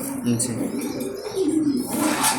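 A male racing pigeon of Kookman stock coos in a few soft, throaty bursts, close by, while a person talks over it.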